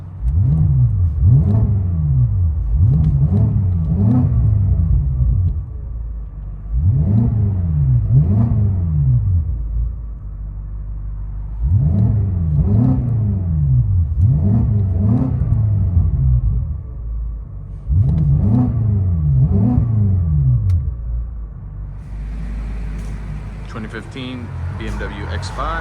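Catless 570hp BMW X5 M with X-pipe, stock resonators and Vibrant resonators revving repeatedly from inside the cabin, rising and falling bursts of deep exhaust roar in a steady rhythm, loud and close, with a voice heard briefly near the end.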